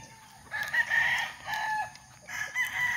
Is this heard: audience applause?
no